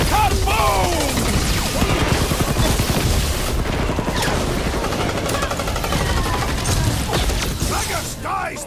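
A loud, dense battle in Guardians of the Galaxy, with an explosion amid a continuous barrage of gunfire and crashes that fills the whole stretch and rings out close.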